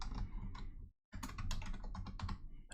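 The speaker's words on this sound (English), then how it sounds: "Then I'll have to type my password here." Password being typed on a computer keyboard: quick runs of close, light key clicks, broken by a brief silent gap before a denser burst of keystrokes.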